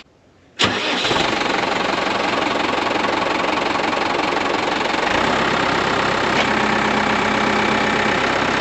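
A truck engine turns over and settles into a steady, loud idle close by, running unbroken to the end with no voices.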